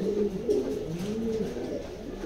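A pair of racing pigeons coo softly and continuously up close, their low, rolling, wavering calls overlapping against a faint background hiss.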